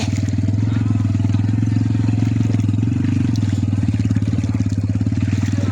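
A motorcycle engine idles with a steady, low pulsing rumble, close and continuous throughout.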